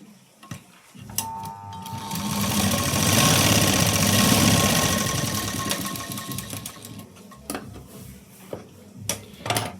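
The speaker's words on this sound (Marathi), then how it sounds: "आता मी काय करणार आहे, याच्या बाजूला अजून एक शिलाई देणार आहे।" A sewing machine runs steadily for several seconds, stitching a seam on a katori blouse, close and fairly loud with a fast rhythmic mechanical whir, with brief handling clicks before and after.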